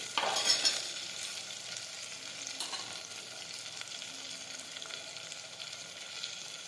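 Spices tipped into a hot pan of potato curry, a burst of sizzling at first that settles into a soft, even frying hiss with faint stirring scrapes, close and fairly quiet, no talking.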